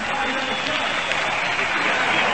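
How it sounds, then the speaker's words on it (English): A 1942 St. Louis baseball crowd applauding Cardinals shortstop Marty Marion as he comes up to bat: a steady, dense wash of clapping and crowd noise with a voice talking over it. "He got a nice round of applause."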